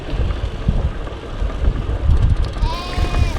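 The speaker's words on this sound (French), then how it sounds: "Il y a un troupeau de moutons." A flock of sheep and young lambs bleats beside the water along the Rhône, with wind rumbling across the microphone and a clear, wavering bleat rising near the end.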